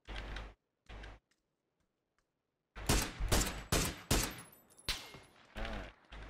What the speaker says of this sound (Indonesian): Eh, ada nembak dari kiri kan?